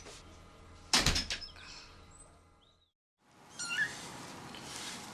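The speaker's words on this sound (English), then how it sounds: "Just slam the back door when you go out" A back door bangs shut once, loud and near, with a brief rattle after the impact. Faint bird chirps follow over quiet room tone.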